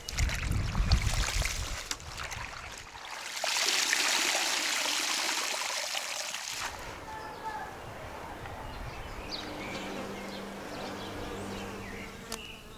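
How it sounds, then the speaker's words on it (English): Fresh greens, including wild garlic and dill, being washed in water, with close sloshing and splashing that swells, drops back and continues as a steady rinse, no talk. "let's give these greens a nice thorough wash"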